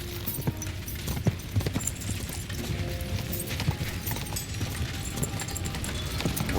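A horse's hooves clip-clop steadily at a quick pace in the medieval game Kingdom Come Deliverance 2, a rhythmic thudding beat running throughout over faint ambient noise, with no talk.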